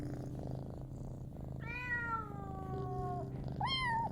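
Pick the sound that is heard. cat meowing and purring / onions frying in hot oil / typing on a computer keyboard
cat meowing and purring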